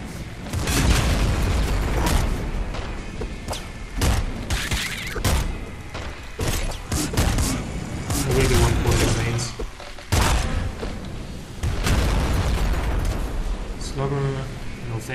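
Gunfire in the video game Nuclear Throne, heard as rapid, punchy bursts of shots and booming impacts that repeat throughout over busy game sound effects, with a voice talking now and then.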